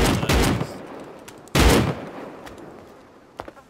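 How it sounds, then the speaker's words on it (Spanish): Gunfire in the video game Rust: two loud, sharp shots about a second and a half apart, each with a long decaying echo, then a few fainter distant cracks near the end. "Están disparándose entre ellos"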